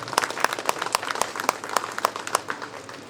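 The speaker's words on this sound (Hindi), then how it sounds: "इनके लिए जोरदार तालियों" A small audience claps at a shelter home and food bank inauguration. The claps are sparse and distinct, fairly quiet and steady over a few seconds.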